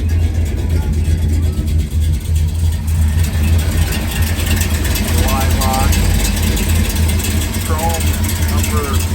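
A cold 1963 Chevrolet C10 pickup engine idles steadily with a low, even rumble throughout, while a person talks over it at times.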